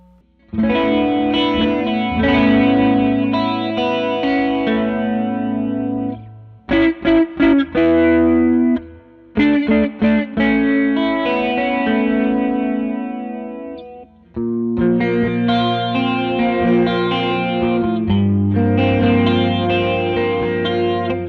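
Guitar through a dual chorus/vibrato pedal with depth turned all the way up, playing sustained chords with a strong wavering modulation, broken by a few choppy staccato stabs and brief pauses.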